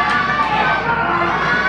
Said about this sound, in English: For some reason, the crowd is behind him